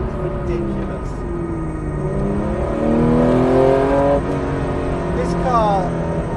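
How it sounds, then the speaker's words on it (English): A modified Porsche 911 of the 964 generation on sticky Pirelli P Zero Trofeo tyres driven hard on a road, its engine note rising and falling through revs in a close, continuous in-car drone. "It's such an intoxicating thing to do, to drive a 911 that's been honed like this, on a road like this."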